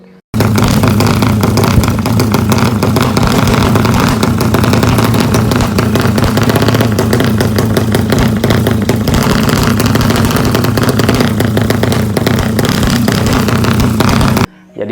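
A modified FU 500M racing motorcycle engine runs hard and loud, a harsh, steady helicopter-like roar held nearly unchanged for about fourteen seconds before cutting off abruptly.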